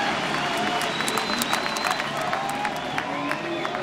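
Crowd at a Huntington Beach surf contest final applauding and cheering steadily, a dense wash of clapping with whoops over it and a commentator's voice on top.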